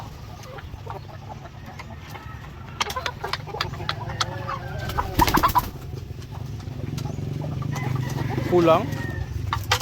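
Dekalb Brown laying hens cluck and cackle in a farm coop, several birds calling over a low background rumble, growing busier toward the end, while a person speaks briefly.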